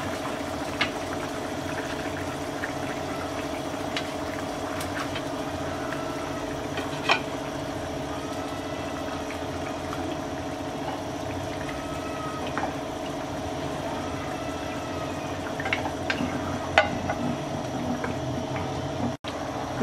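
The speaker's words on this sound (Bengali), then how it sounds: "বলক চলে আসছে, এবার আমরা ভাজা মাছ দিয়ে দিচ্ছি।" Fish curry with potato and pointed gourd simmers in a pan after fried small fish are added, a steady soft bubbling with occasional light clinks and taps, no talking.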